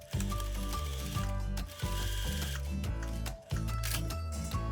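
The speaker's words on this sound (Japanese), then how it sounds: "このカックンとなっているここからここまでをミシンで縫い合わせます" A sewing machine stitches a seam on fabric for a gathered smock dress, running in loud rapid mechanical bursts broken by brief pauses.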